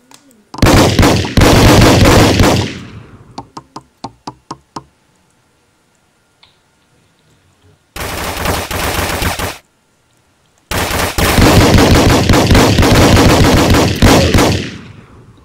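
Video game machine gun fire in loud, long rattling bursts, broken by a string of separate single shots and short silences, then more sustained automatic fire.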